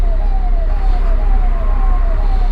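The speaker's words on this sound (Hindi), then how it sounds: "उधर से कोई पुलिस की गाड़ी tau tau tau tau tau tau कर रही है" A police car siren wails in a rhythmic up-and-down pattern through a traffic jam, repeating steadily over constant road noise and engine rumble, moderately loud and continuous.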